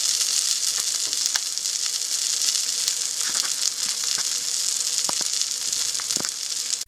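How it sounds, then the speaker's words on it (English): Cutlassfish sautéing in a pan gives a steady, close sizzle that runs the whole time, with bright frying hiss and scattered small pops and crackles. "Sauté for 2 to 3 minutes on each side and it's done."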